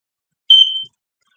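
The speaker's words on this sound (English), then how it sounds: "It's been a while since I set my alarm off." An alarm goes off with a single short, shrill electronic beep lasting under half a second, alone in otherwise silent surroundings.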